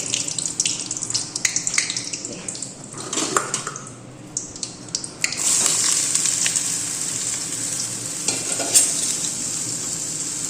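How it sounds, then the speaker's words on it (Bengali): Potatoes fry with curry leaves in a pan with a steady sizzle, broken by stirring scrapes and brief bursts of running water nearby. "একটু আলু ভাজাটা আগে করা হয়ে যাক"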